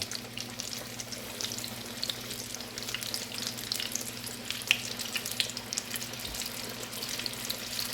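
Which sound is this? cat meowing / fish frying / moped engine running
fish frying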